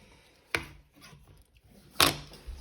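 Two sharp knife chops on parsnips against a cutting board, well apart, with quiet kitchen handling noise in between.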